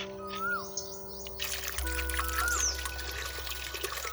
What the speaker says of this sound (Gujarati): બે ટેરવા જેટલું પાણી રેડવું.